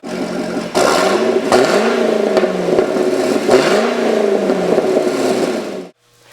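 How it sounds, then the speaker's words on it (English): A Chevrolet Corvette engine with a Borla exhaust revs repeatedly, each throttle blip rising and falling with a deep throaty exhaust note, close and loud, before cutting off abruptly. "It does have a Borla exhaust system, which sounds fantastic."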